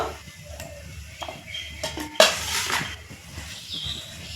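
Sweet pumpkin slices go into a bowl of batter for pumpkin chops, with soft clinks and clatter of utensils against the bowl and one sharper knock midway, close and moderately quiet, no talking.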